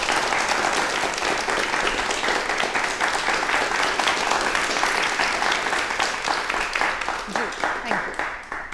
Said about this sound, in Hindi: ज़ोरदार तालियों के साथ एक बार हो जाए